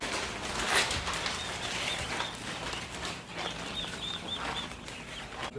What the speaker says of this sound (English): these are baby turkeys, which are not called chicks, they're actually called poults